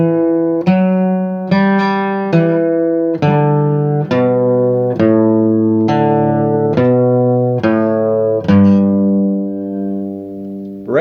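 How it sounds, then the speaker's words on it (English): Acoustic guitar playing the normal bluegrass run from Blackberry Blossom: a brisk sequence of about a dozen clear plucked notes with ringing sustain, close and solo. "the normal run sounds like this"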